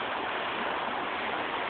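Eagle Creek rushes and gurgles where salmon spawn, a constant close wash of flowing stream water heard alone on a small phone recording.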